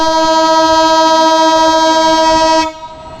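Passing train blowing a long, loud, steady horn nearby over rumbling rail noise, the horn cutting off abruptly near the end.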